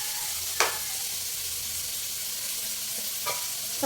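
Squid sizzles in a frying pan under a steady, soft frying hiss, with two sharp scraping clinks of a utensil stirring it, one early and one near the end.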